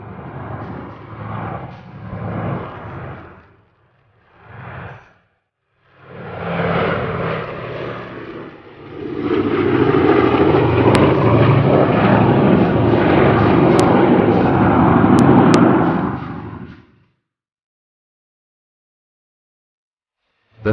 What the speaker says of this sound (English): The lead aircraft dipped low over Lake Victoria and lined up for Entebbe Airport.